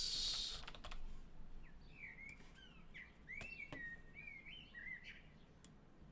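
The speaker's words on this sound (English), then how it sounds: "That's a very loud bird." Loud bird chirping and tweeting in a rapid series of short whistled calls, heard alongside computer keyboard typing.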